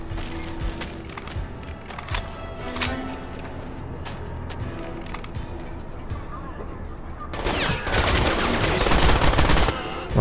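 Bursts of rapid submachine gun fire from the video game Crysis crackle in short volleys, then a sustained loud burst near the end.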